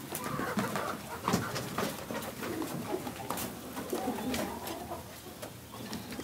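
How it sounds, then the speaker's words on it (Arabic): Several pigeons coo steadily and densely, with overlapping throaty calls that continue throughout and some brief louder notes, close by. "تعالوا نبص على الحمام بالمرة ونختم الفيديو بقى من عند الحمام"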